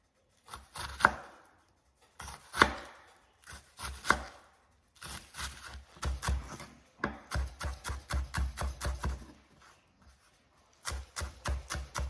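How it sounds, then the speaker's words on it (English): Knife chopping onions into thin small squares on a cutting board for chorizo potato taquitos, a run of quick, close, crisp chops in short bursts with brief pauses and no talking. "That is it for our onions, and since all of the chopping is done"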